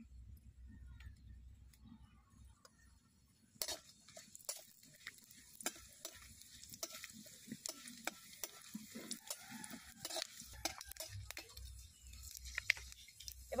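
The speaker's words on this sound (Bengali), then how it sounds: "ফোড়ন হিসাবে দিয়ে দেব শুকনো লঙ্কা," Dried red chillies and five-spice tempering sizzle in hot mustard oil, with a soft crackle that jumps louder partway through, broken by scattered clinks and stirring taps.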